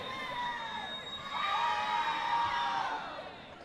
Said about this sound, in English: The crowd is going wild for those arm numbers